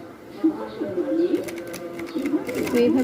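A sewing machine stitches fabric for palazzo pants in short, uneven bursts, a soft mechanical whirr, close and moderately loud.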